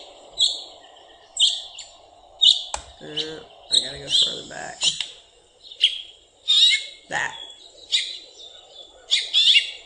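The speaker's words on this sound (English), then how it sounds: "that little, almost like a gear grinding sound or something" A finch gives a short, raspy call like a grinding gear, repeated among other chirps and whistles from birds outdoors, with a brief voice speaking midway.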